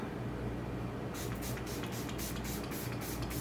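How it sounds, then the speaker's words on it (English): Several quick hissing bursts of a makeup setting spray after a second of low background hum, pulsing in a short irregular rhythm, close by. "I'm gonna spray it and then read a little bit about it"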